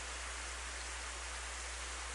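Steady rain with fog in the visual novel game Planetarian, a dense, even hiss of falling water continuing alone without pauses or voices.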